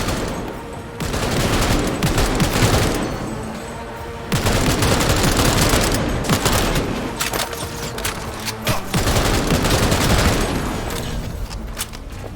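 Heavy, sustained gunfire in the video game Cyberpunk 2077: loud continuous automatic bursts with dense rattling shots and booms, broken by a few short gaps.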